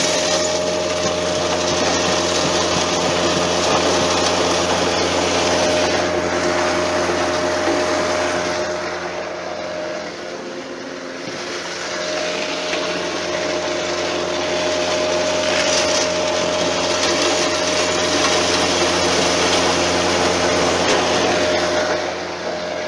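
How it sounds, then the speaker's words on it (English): Loud, steady roar of a 16 by 12 hammer mill crushing glass, with a constant mechanical hum and a gritty, crunching wash of noise throughout, dipping briefly midway before resuming. "We're going to be running it through the 16 by 12 hammer mill"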